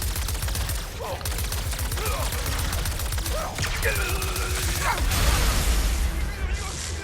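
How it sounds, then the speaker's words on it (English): Enemies in Ratchet & Clank: Rift Apart fire a new weapon on Blizar Prime, a steady rattling fusillade of rapid shots layered over constant game noise, with a few zapping tonal sweeps and a player talking over the action. "So they got some new kind of weapon, huh?"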